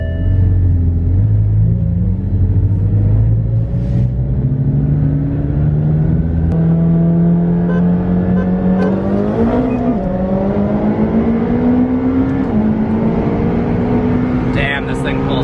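Two McLaren 720S cars, one stock and one with downpipes and exhaust, accelerate hard side by side, their loud, sustained engine roar climbing steadily in pitch through shifts, heard close up from inside the car with voices under the noise.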